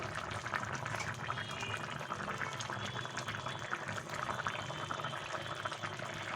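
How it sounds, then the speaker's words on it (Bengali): A covered pan of Bengali fish curry bubbles on the stove with a dense, even rumble of boiling liquid that holds steady at a moderate level throughout, without pauses. "আমি আরও এটাকে এক মিনিট ঢাকা দিয়ে ফুটিয়ে নেব"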